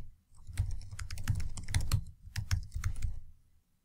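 A password is typed on a computer keyboard in quick bursts of close, crisp key clicks, pausing briefly before another run of taps and a final pair of keystrokes.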